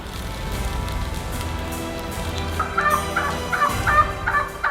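Wild turkeys gobble repeatedly in the open, bursts of gobbling growing louder toward the end over a steady low rumbling background with no talking.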